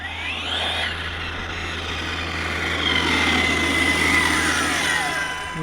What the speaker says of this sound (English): That's a motorbike.